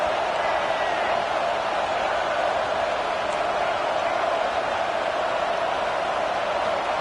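Home crowd in the NCAA 26 college football game, South Carolina versus LSU, fills the stadium with a loud, unbroken roar of cheering that stays steady throughout.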